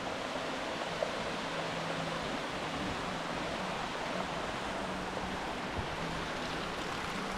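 Steady, even rush of falling water from the Cascades waterfall on a trail near Eagle Lake, a continuous broadband roar at moderate distance with no voices.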